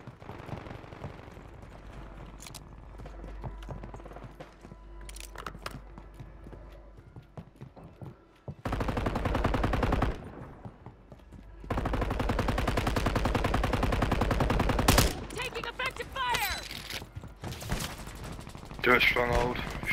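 Gunfire during a stronghold assault in the video game Rebirth, with loud dense bursts of automatic fire at several points, sometimes under players' voices and mixed with game effects.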